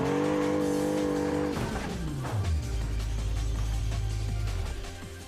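A test car in a racing video game skids on snow and crashes. A loud engine drone bends downward into a long, low rumbling slide that fades at the end, with no talking.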